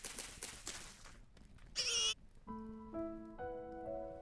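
Baby pigs in the Gather & Hunt video game make a few brief squeals and bleat-like cries, then several clean tonal game chimes follow, fairly quiet overall with no talking.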